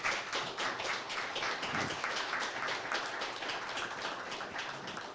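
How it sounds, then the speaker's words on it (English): Dense, steady applause from a crowd at a city council meeting, many hands clapping in a continuous patter that holds at a quiet, even level. "Let's give them all a round of applause."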